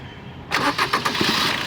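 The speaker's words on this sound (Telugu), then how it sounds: "ఇంజిన్ అనేది మళ్ళీ ఆఫ్ చేసి ఆన్ చేపిస్తాను ఆఫ్ అయింది మళ్ళీ ఆన్ చేస్తున్నాను చూడండి" A 2018 Maruti Brezza ZDi automatic's diesel engine cranks briefly with a few rhythmic turns, then catches and settles into a steady idle, loud and close.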